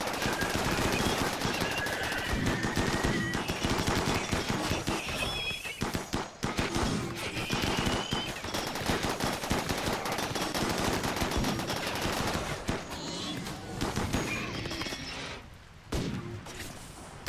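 Sustained machine-gun and rifle fire crackles through a Rimworld battle, loud and nearly continuous with rapid overlapping bursts, thinning briefly toward the end.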